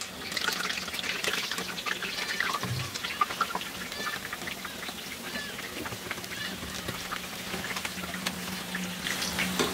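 Spinach and coriander leaf fritters frying in hot oil give off a steady, dense crackling sizzle that continues without a break from start to finish, close and fairly loud.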